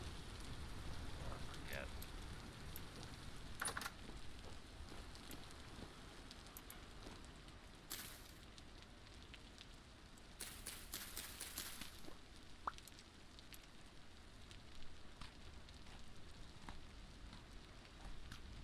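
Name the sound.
rain in the video game Vintage Story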